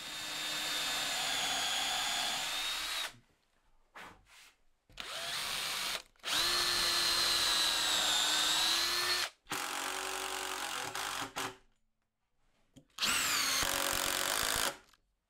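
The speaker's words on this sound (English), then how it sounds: "I'm going to whack a few screws in just to make sure." Power drill driving screws into wooden TV stand shelves, several loud whirring bursts with rising pitch as each screw bites, separated by short pauses and quiet handling.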